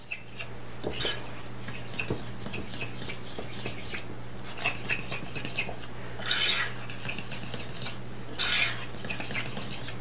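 Waffle batter with a little baking powder being stirred in a bowl, a spoon scraping and clinking softly against the sides in uneven strokes, with a few louder scrapes over a steady low hum.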